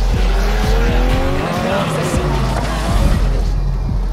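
Rallycross cars in V-Rally 4 race in close contact, engines whining through rising gear changes with tire squeals and scrapes, loud and near, with a voice talking over the action.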